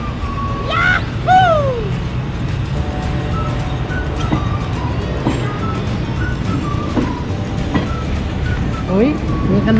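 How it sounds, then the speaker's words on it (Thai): A steady low rumble of a train pulling away from Bang Pa-in railway station runs throughout, with children and adults chattering loudly over it. "รถไฟไปแล้ว"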